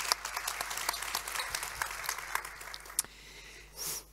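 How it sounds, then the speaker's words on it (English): Audience applause fills a concert hall at a European policy event in Lund, a dense steady clatter of many hands with a few sharper claps, thinning out near the end with a brief rustle. "And a big applause to warm up a bit."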